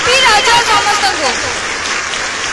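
Audience applause at a stage event in Haripur, a burst of many hands clapping with a voice audible over it at the start, then settling into a steadier, slightly softer patter.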